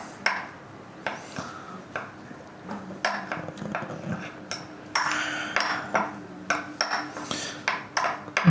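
Honey and lemon juice are stirred in a bowl, producing a quick series of clinks and scrapes from a utensil against the bowl, repeating about every half second and growing busier toward the end.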